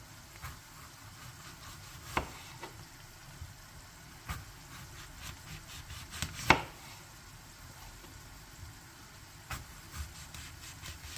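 Sparse knife chops on a board cutting a small apple, a handful of sharp irregular taps over a quiet, low background hum.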